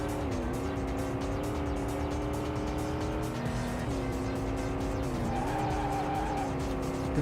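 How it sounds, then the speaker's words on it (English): A car drifts and skids through a race in the racing video game Vanishing Point, its engine droning steadily under long wavering tire squeals that rise and fall without break, loud and continuous with no talk. "Going to do a sliding overtake there. That was nice. Some beautiful drifting on display."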